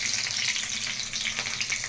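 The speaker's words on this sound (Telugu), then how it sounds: "ఆయిల్ వేసాము. తాలింపు దినుసులు వేసుకున్నాము." Tempering spices in hot oil crackle in a steady, loud, close sizzle, with no voices.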